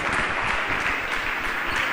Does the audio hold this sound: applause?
yes